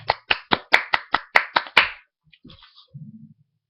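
A short run of about nine sharp, evenly spaced hand claps, close and loud, followed by brief quiet and a faint murmur.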